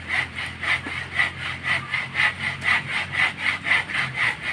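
A handsaw works steadily through hard firewood, each stroke a rhythmic rasping pass repeating about twice a second, close and fairly loud, with no talking.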